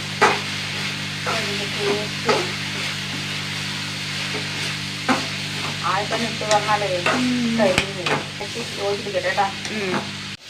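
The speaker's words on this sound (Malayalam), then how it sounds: "ഗരം മസാല ഇട്ടാ നന്നായിട്ട് വഴറ്റുക" Curry sautéed with turmeric and a small spoonful of garam masala is stirred in a pan, giving a steady close sizzle with repeated scraping strokes for about ten seconds, while a faint voice murmurs now and then underneath.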